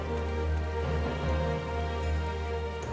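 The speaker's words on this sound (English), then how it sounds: "It's now raining" Rain in the game Final Fantasy XIV, a dense steady patter of drops on surfaces with a low hum beneath, even and continuous for a few seconds with no talk.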